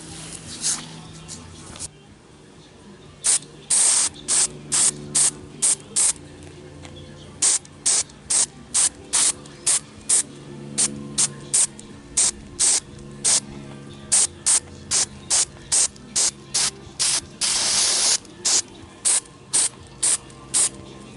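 Spray adhesive from a can coats headliner material for a 1995 Jeep Cherokee XJ, heard as a long run of short, sharp hissing spurts in a rapid irregular rhythm, close and fairly loud, with one longer blast.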